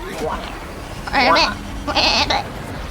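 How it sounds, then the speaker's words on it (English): A goat bleats twice in loud, wavering calls, each about a third of a second, heard alongside game sounds and background chatter. "That's a goat."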